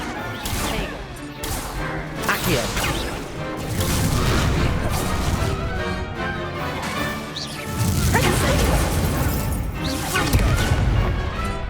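Hogwarts Legacy spell combat brings repeated blasts, cracks and fiery whooshes from Confringo and Incendio casts, dense and loud across the whole stretch.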